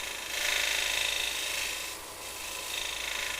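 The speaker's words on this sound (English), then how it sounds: "Just brushing this tool backwards and forwards here. Try and get rid of that bit of paint off the edge." Woodturning tool brushed back and forth against a spinning piece on a lathe to remove paint from the edge, a loud, close, hissing rasp that swells and eases in slow strokes.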